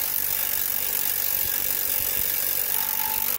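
A ratchet clicks rapidly and steadily while tightening the top U-bracket bolts on a 3 HP chain-drive motor mount, close and continuous for a few seconds, then stops abruptly.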